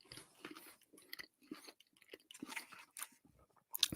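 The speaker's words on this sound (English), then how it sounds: "I'm chewing." Close, quiet chewing of a bite of hot dog, with soft, irregular wet crunches and mouth sounds that start and stop across a few seconds.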